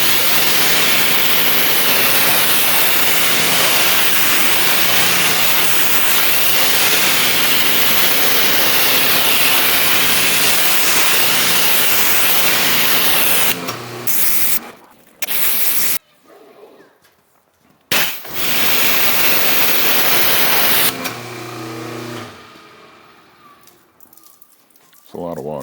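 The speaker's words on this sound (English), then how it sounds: "Let's rinse it off." Water spray hisses steadily across a ceramic-coated car during a rinse, loud and continuous for about fourteen seconds, then broken into short bursts and pauses with a voice talking over the gaps.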